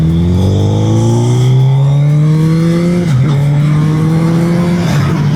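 A Suzuki Hayabusa motorcycle engine pulls hard under acceleration, its loud rising roar climbing in pitch, dipping briefly at a gear change, then climbing again, close and without talk.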